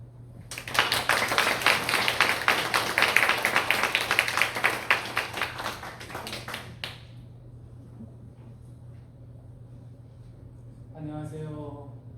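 A church congregation applauds the pastor in a loud, dense burst of clapping lasting several seconds, then fading. A brief spoken voice follows near the end.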